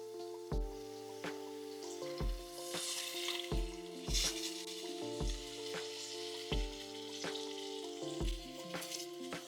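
Spiced tamarind curry with green turkey berries sizzling and frying in a pan, with repeated stirring scrapes at a steady rhythm over a constant background hiss.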